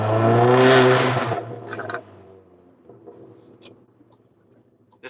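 Modified VW Golf MK7 accelerating hard, a loud close engine roar that rises and then quickly drops away into quiet idle with faint ticks and clicks.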